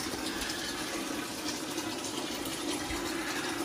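Water gushing steadily from a tap or hose for washing dirty chairs outdoors, a continuous close splashing flow with no talk.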